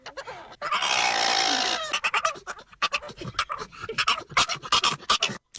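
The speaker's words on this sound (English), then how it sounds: "That was a pug making those weird noises in the car." A pug in a car making strange, strained noises: a long raspy wheezing snort at first, then a rapid run of choppy grunting, snuffling pants that carry on to the end, close and fairly loud.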